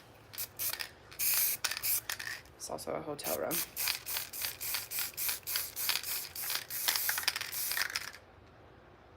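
Spray paint hisses in a run of short bursts onto a pair of shoes in a hotel room, the puffs quick and fairly close, with a brief stretch of talk partway through.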